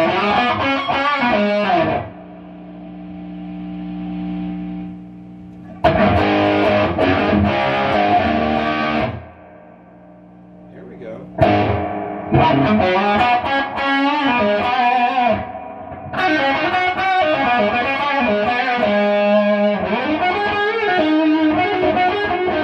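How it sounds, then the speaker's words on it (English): A Marshall 2210 guitar amplifier under repair is played through its reverb, giving loud distorted guitar chords that ring out with reverb tails between bursts of strumming, alone without talk. "Let's check out our reverb."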